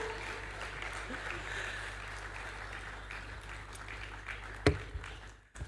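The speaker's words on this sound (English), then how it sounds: "Please, a round of applause for the Amazon panel." Summit audience at an Afri-Caribbean investment event giving a panel a soft, distant round of applause, with a sharp knock and handling noise near the end.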